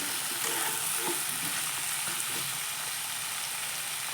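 Chili and cumin powder are stirred into a pointed gourd and small fish curry in a hot pan, a constant close frying hiss with faint scraping underneath and no talking.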